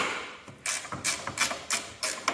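Half-inch wrench working bolts loose on the fuel tank of a red Cub Cadet 782 tractor, a run of close, sharp ratcheting clicks coming in short bursts with brief pauses between, no talking.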